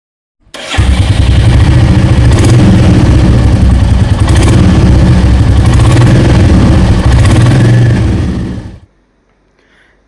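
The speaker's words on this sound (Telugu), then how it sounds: "ఇప్పుడు మన బైక్ని స్టార్ట్ చేద్దాం" A 2025 Royal Enfield Classic 350 motorcycle engine fires up almost at once and settles into a loud, steady idle for about eight seconds, then cuts off abruptly, leaving near silence with no voices.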